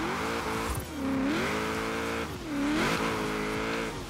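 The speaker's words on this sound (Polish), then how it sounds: "Jedziemy na drift." A Mazda MX-5 drifts in Forza Horizon 4, its engine droning steadily while tire squeal rises and falls in two long sweeping waves, loud and close with no talk.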